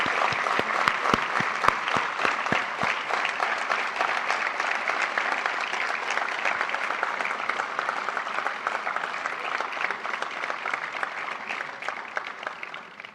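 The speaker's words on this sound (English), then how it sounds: "the entire crowd can give you one final round of applause" A large crowd applauds the winning teams at a competition finals, a few distinct claps at the start quickly swelling into sustained, even applause that holds for the whole stretch.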